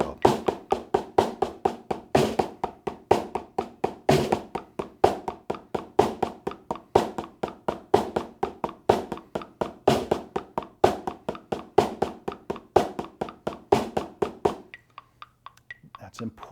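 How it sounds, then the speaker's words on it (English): Paradiddle rudiment played as steady 16th notes, a fast, even stream of sharp taps with regular accents, close and dry, running alone for about fifteen seconds before stopping. "So the paradiddle at the 16th note version and this tempo sounds like this."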